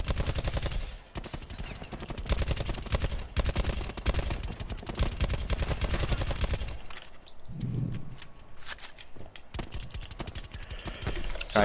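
Rapid automatic gunfire in Call of Duty Blackout, loud sustained bursts of close shots in quick rhythm, briefly pausing before more scattered shooting resumes.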